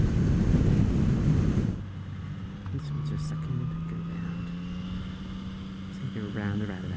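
A Yamaha MT-09 motorcycle being ridden, with loud wind buffeting at the start giving way to a steady engine drone that slowly rises in pitch, then a speaking voice near the end.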